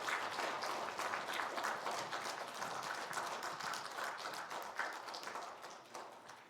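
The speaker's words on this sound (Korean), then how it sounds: "우리 이분들 다시 한번 뜨거운 격려의 박수로 축하해 주시기 바랍니다." A church congregation at a Sunday worship service applauding, sustained dense clapping from the whole room, fairly distant and soft, tapering slightly toward the end.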